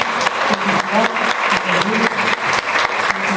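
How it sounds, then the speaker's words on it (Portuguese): A church congregation applauding together during a sermon, with steady, dense clapping filling the whole stretch at close, loud level and a few voices faintly mixed in. "e as palmas do Senhor Jesus"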